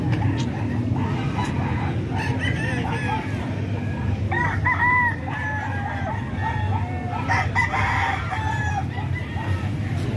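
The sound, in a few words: gamefowl rooster crowing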